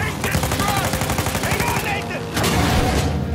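Rapid video game gunfire fills the stretch as dense bursts of automatic shots, with a short pause before another heavy volley near the end.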